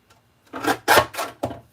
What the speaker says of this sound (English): I'm going to use my decal trimmer because it just makes it fancy